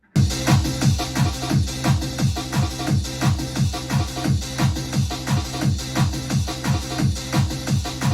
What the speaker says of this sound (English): So that is the Rave Generator RG2 plugin.